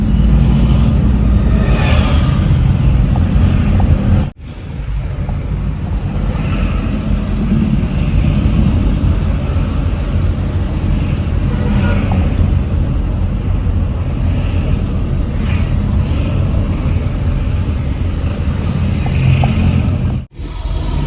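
Steady roar of morning traffic on a Davao City street, heard from inside a moving vehicle, with continuous engine rumble and road noise plus a couple of brief dropouts.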